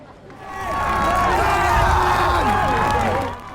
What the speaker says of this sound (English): it's in the enclosure that the crews really get cheered on by the crowds